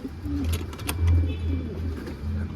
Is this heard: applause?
no